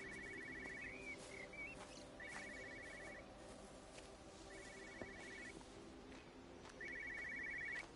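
A telephone in a car rings in the video game Everybody's Gone to the Rapture, short repeated bursts, three or four rings spaced a couple of seconds apart, fairly faint over a low ambient hum.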